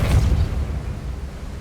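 A Depulso spell cast in Hogwarts Legacy gives a single deep, rumbling blast at the start that fades into a low, sustained roar.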